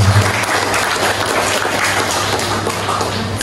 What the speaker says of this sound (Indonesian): Beri tepuk tangan untuk Bapak.